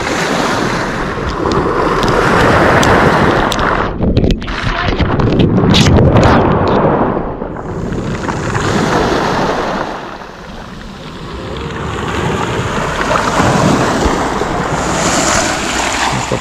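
Light sea waves wash onto the beach at Lazarevskoye on a calm morning, a steady loud surf roar with gusts of wind buffeting the microphone and no voices.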